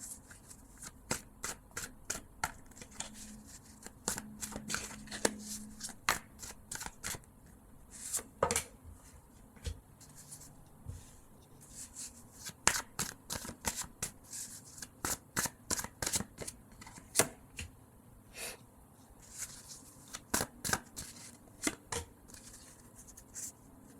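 Tarot cards are shuffled by hand in repeated bursts of sharp riffling clicks and snaps, close and fairly quiet, with brief pauses between runs.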